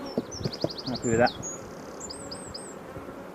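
Honey bees buzz around an opened hive during an inspection of a very large colony, a steady close drone with brief higher chirps, while a person speaks briefly over it.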